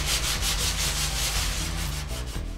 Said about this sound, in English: So a little bit of 120 grit on the sanding block